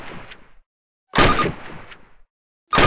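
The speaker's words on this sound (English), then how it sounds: "Approach the fence and fire 6 rounds at your target." Rifle shots fired at a range target in Call of Duty, three loud, close blasts each followed by a short echoing tail, spaced about a second apart, with no talking.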